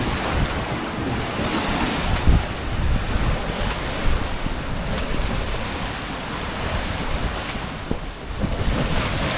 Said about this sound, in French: Bon, il n'y a pas des vagues énormes